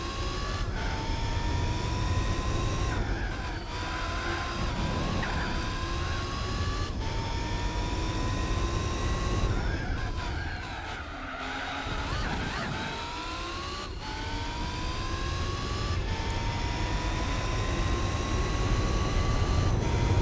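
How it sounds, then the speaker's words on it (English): A race car engine in Gran Turismo 4 revs hard through the corkscrew, rising through the gears with repeated upshifts, dipping and straining briefly mid-run before climbing again, loud and continuous throughout. "You hear the car trying to get the power down through the middle of the corkscrew"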